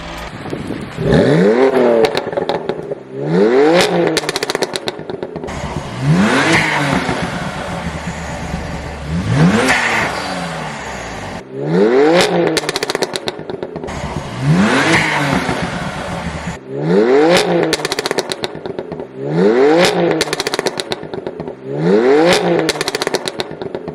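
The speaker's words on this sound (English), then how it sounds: "This car has got the akrapovic exhaust as well, so we're gonna give it some revs and give you a sound check." A BMW F80 M3 with an Akrapovic exhaust and a Bootmod3 stage 2 tune is revved repeatedly. About seven loud, close bursts rise sharply and fall back, with brief gaps and crackling between them.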